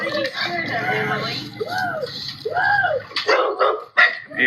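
Dogs bark and whine in short rising-and-falling yelps, fairly close and loud, mixed with people talking over and between them in a household setting.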